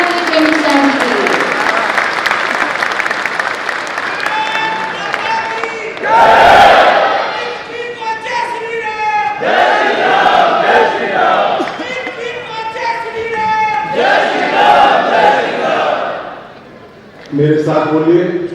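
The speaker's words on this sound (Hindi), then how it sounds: "जोरदार तालियां माननीय श्री अमित शाह जी के लिए।" A large outdoor crowd at an Indian political event applauds and cheers Union Home Minister Amit Shah, with loud waves of clapping, shouted slogans and chanting voices rising and falling, broken by a brief lull, with amplified speech from the stage.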